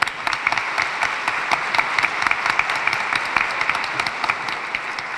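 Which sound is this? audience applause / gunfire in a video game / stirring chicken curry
audience applause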